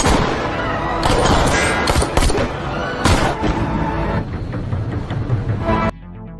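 Gunshots ring out in an action-film shootout at a station, a dense run of loud, overlapping bangs and blasts filling most of the moment before cutting off abruptly.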